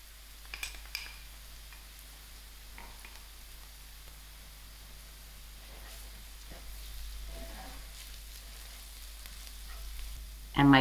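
Garlic and masala spices frying in a pan after cumin seeds, a soft steady sizzle under low background hum with a few faint stirring clicks and a louder knock at the very end.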